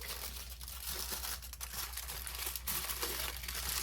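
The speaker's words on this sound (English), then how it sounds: "And we're going to tightly wrap it into a foil pack." Aluminum foil crinkles and crackles softly as it is wrapped tightly around a rack of ribs, with irregular rustling bursts close by and no voices.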